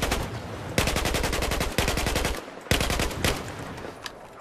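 Primary weapon firing in Battlefield 4, loud rapid automatic bursts with short pauses between strings of shots, close and continuous with no voices.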